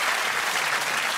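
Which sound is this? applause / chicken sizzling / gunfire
applause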